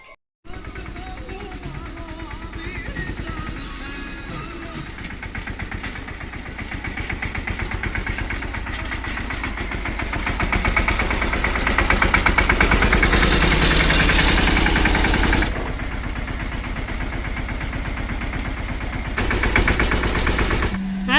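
A farm tractor engine runs close by for about twenty seconds, a steady rapid chugging rattle that swells louder midway and then eases back, with a voice faintly mixed in.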